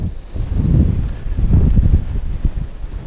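Gusty wind on a windy day in eastern Kansas buffets the microphone outdoors with loud, low rumbling that swells and eases over a few seconds.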